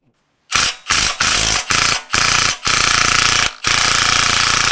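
A ratchet with a 21 mm swivel socket loosening the track bar bolt on a Jeep Gladiator, heard as loud, close, rattling mechanical bursts broken by a few short pauses before one long final run.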